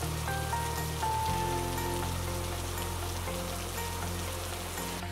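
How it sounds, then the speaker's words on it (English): Heavy rain pours down steadily in a Western Ghats forest, a dense continuous hiss of drops striking surfaces with no voices, a low steady rumble running beneath it throughout. "the rain gods showed some mercy and it started pouring down heavily"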